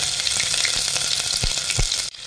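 One inch of grated ginger sizzles in hot oil with cumin and crackled mustard seeds, a steady close frying hiss with a few soft stirring thumps, briefly cutting out near the end.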